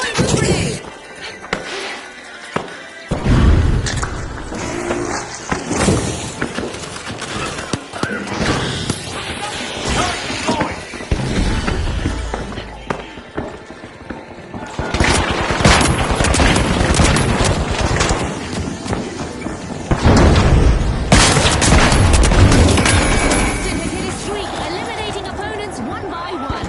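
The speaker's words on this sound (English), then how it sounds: "Throwing blue grenade." A blue grenade thrown and exploding in the video game The Finals, amid loud chaotic gunfire, crashes and blasts, with announcer-style game voices over the mayhem.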